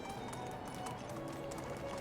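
Donkey hooves clip-clop in a steady, faint rhythm in the medieval village game Medieval Dynasty, soft taps beneath a low ambient bed.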